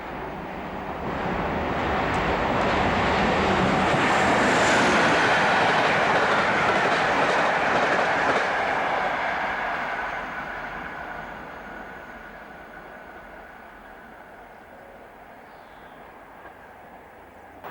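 British Rail class 45 locomotive 45141 races through Wellington on a Derby to Penzance express, a loud rush of engine and clattering wheels that peaks close by, then fades into the distance.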